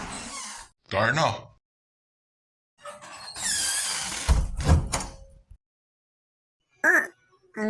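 An apartment door is pushed open with a squeaky creak and a sliding rub, followed by a brief thud, among short quiet gaps and a few faint voices.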